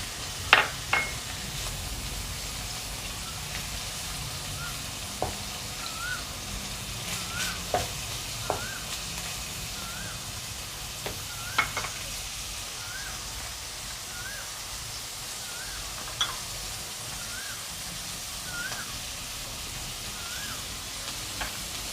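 Shrimp sizzle and crackle steadily in a hot pan while stir-frying for glass noodles, with occasional knocks and scrapes of a utensil stirring.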